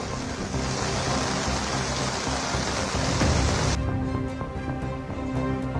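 Heavy rain falls on a waterlogged Kolkata street at Teghoria during the morning office rush, a broad continuous wash of noise with passing traffic underneath that thins out partway through.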